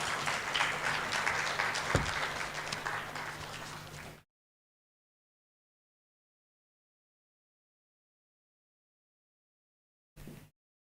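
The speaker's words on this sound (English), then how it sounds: "Round of applause again, please, to Dr. Shoibu for that presentation" Audience applause following a presentation at a stakeholder dialogue, a dense burst of clapping lasting about four seconds, then cutting to silence with a brief flicker near the end.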